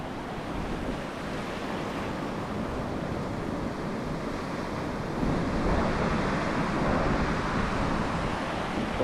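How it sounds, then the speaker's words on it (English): Surf breaking on a Northumberland beach at Cambois, a continuous broadband roar of waves washing in, steady and fairly loud with some wind rumble, swelling slightly partway through. "Nice little bit of surf on."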